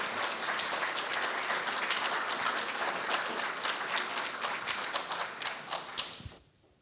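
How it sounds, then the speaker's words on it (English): Audience at a democracy discussion event applauding Professor Mark Smith, a full, steady round of clapping that holds evenly for several seconds, then quickly fades out. "can we have a round of applause for Professor Mark Smith?"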